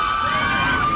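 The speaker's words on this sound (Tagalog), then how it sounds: "Napuno ng malakas na hiyawan at sigawan ang quadrangle ng UP Manila" Crowd shouting and cheering fills the quadrangle of UP Manila during the annual Oblation Run, a steady dense roar with a high whistle-like tone running through it for about a second.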